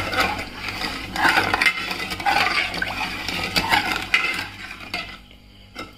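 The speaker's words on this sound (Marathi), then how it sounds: "आणि हे सर्व झाल्यानंतर याला मिक्स करून घ्यायचं छानपैकी" Spoon stirring a sugar mixture in a pot, scraping and clinking against the metal in a steady repeated rhythm, close and moderately loud, then easing off at the end.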